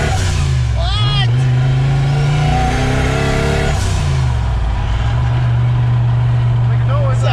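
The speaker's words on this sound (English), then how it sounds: "Sounded like boost noises right there." Turbocharged Ford Mustang foxbody engine pulls and revs loudly up close, with a steady low drone, a brief whistling spool near the start and another short whistle at the end, while people talk over it.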